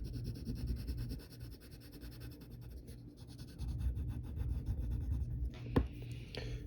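Pencil shading on paper while drawing, a close, continuous dry scratching of graphite strokes that runs steadily with a low background hum and a few sharper strokes near the end.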